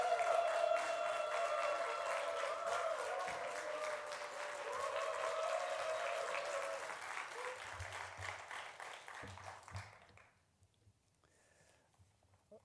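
A church congregation at a Sunday service applauds to welcome a visiting pastor, a steady wash of clapping that carries for about ten seconds before breaking off into near silence.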